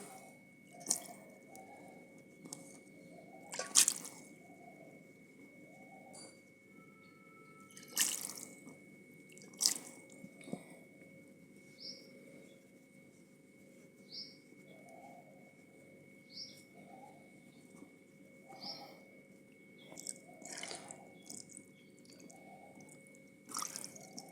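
Water drips in scattered, irregular drops through a cloth tied over a pot while homemade paneer strains, faint and close, with a steady low hum underneath and no talk.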